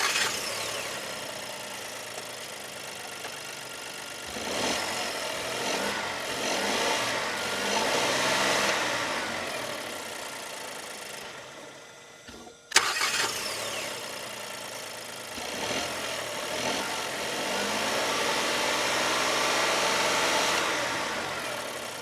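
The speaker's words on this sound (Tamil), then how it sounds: "ஸோ என்ஜினை ஸ்டார்ட் பண்ணி பார்த்துடலாங்க." A 2025 Skoda Kylaq Classic SUV engine cranking and catching, then settling into a steady idle with swelling revs, heard close by with a brief sharp click midway.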